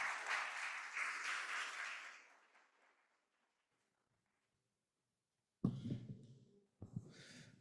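An audience at a recycling survey presentation applauds with steady, dense clapping for about three seconds, which then fades to silence before some brief, muffled rustling and noise near the end.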